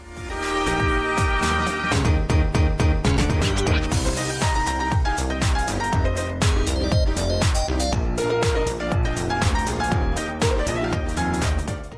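An uplifting house song plays as a full, dense mix with punchy kicks, bright melodic synths and a steady groove at constant loudness.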